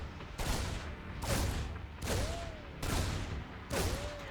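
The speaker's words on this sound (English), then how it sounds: "I'm so hard, I shoot at rocks" Game units firing on rocks in a real-time strategy match, with a sieged tank among them: five heavy, booming blasts land at a steady beat roughly a second apart, each with a crackling tail, and no voices.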